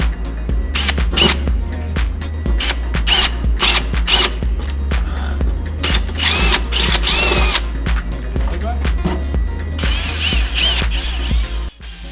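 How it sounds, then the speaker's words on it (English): Power drill running in a garage during a Mazda RX-7 FD build, testing bits in short repeated bursts of whirring and ratcheting, loud and close with pauses between runs and mechanical clicks. "So we have a drill. Let's try some of these guys out."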